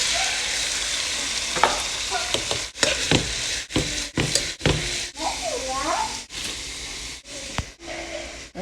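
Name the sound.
stirring pinto beans in seasoned oil in a pot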